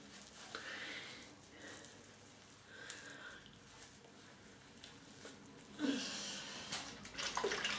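Water splashing as a face is washed by hand, with soft intermittent splashes and trickles close by, louder splashing toward the end.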